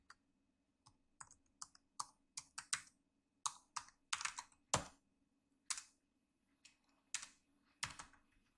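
Keystrokes on a computer keyboard while writing a Python script in the nano text editor, about twenty crisp, close clicks in irregular bursts and pauses over a faint steady hum.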